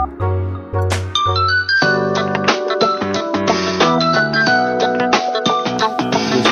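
A mobile phone rings at home with a bright, chiming ringtone melody of bell-like notes over a steady low tone, loud and close, with no talking.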